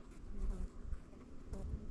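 Honey bees buzz steadily over a hive frame during queen rearing, a dense low drone of many insects close by with a brief louder swell partway through.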